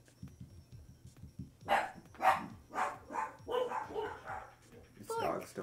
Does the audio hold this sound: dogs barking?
yes